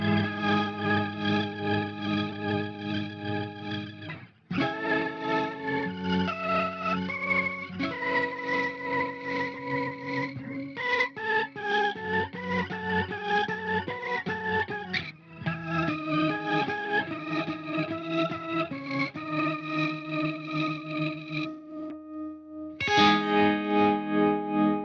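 Electric guitar runs through a lo-fi pedalboard, sustained warbling chords and notes with heavy modulation and grit, played in several phrases separated by brief pauses and a final swelling chord.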